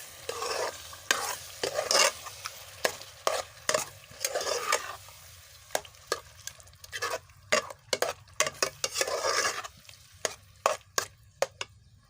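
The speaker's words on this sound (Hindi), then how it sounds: "अभी हम डालेंगे बैंगन।" Mashed eggplant is stirred into masala frying in a pan: sharp spoon taps and scrapes come in irregular bursts over a low sizzle, close and fairly loud.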